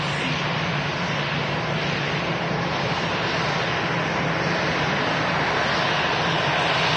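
An EasyJet airliner's engines give off a loud, constant broadband roar close by, a steady rushing drone at an airport with no talk heard.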